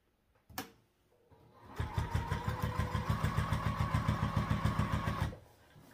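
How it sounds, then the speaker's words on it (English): A sewing machine top stitches a sling bag in one close, even burst of rapid needle strokes lasting several seconds, preceded by a single click. "and we'll top stitch along here."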